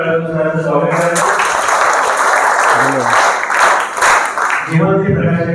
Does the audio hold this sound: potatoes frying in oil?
no